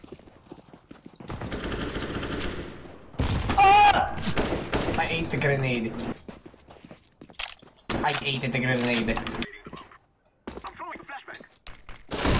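Bursts of CS:GO gunfire during a competitive match, loud rapid volleys clustered in several stretches across the clip, with voices talking over and between the shots.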